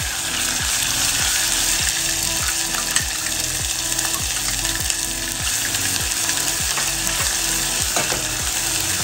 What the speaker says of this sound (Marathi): मसाला छान तेल सुटेपर्यंत परतून घ्यायचा आहे